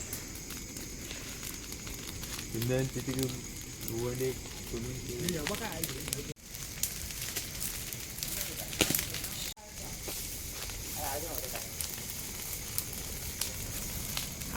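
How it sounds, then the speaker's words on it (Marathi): Fire crackles and roars steadily in an open-air fire for cooking popti, with sharp pops here and there and people talking over the burning. "आग मस्त एकदम कडाक एकदम भडकली आहे"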